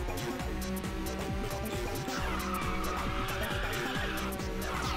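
Car drifting through corners in the racing video game Ridge Racer 6, with a loud, continuous engine roar and sustained tire squeal that rises and falls through the turns, and no talk over it.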